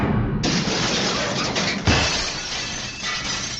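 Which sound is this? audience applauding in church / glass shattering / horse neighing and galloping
glass shattering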